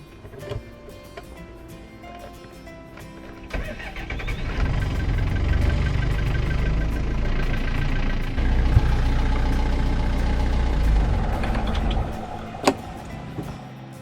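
A Perkins 4-108 marine diesel engine on a sailboat cranks and catches after starter repair, then settles into a steady low idle rumble that continues for several seconds before fading.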